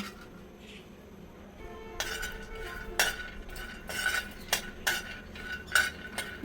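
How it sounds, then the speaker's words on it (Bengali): Peanuts dry roasting on a hot roti tawa, with a utensil stirring and scraping them in sharp, irregular strokes and light clinks over a low background hiss. "প্রথমে রুটি তাওয়া গরম করে তার মধ্যে বাদামগুলো দিয়ে একটু হালকা করে বেজে নিব"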